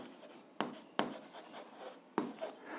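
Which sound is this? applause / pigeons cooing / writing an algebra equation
writing an algebra equation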